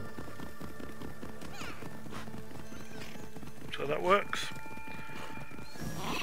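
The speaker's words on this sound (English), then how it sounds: "Then you can call the horse, and then the horse will take you where you want to go." In Assassin's Creed Odyssey, a horse's hooves clip-clop steadily along a road and the horse lets out a sharp neigh midway, with someone talking quietly over it.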